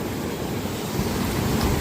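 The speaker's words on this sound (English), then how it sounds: "Oh, big waves here today." Big ocean waves roll and crash steadily onto Noi Na beach on Koh Samet island, a dense, continuous roar of surf with wind noise and no voices.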